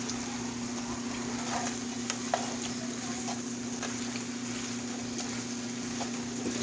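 Pepper steak with onions and sauce cooks down in a pan, a steady low sizzle and bubbling over a constant electrical hum, with occasional soft clicks.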